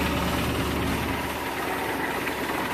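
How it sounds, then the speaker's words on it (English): The car's hydrolocked engine idles in a steady, close, dense rumble with an unbroken vibrating drone. Any knock is buried in the overall churn. "It's a precursor to a worsening knock."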